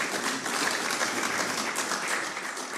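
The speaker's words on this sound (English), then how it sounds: "Let's clap for ourselves." Audience applause at a university innovation week and industry summit in Kenya, a dense steady burst of clapping from a crowd, even and sustained for a few seconds.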